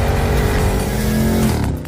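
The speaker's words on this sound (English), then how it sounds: "the new and exclusively for the coupe developed sports exhaust system with the" Exhaust from a 2021 Porsche Cayenne GTS Coupe with its twin-turbo V8 and center-mounted sports exhaust, a loud, steady, rich rumble that holds briefly before easing off near the end.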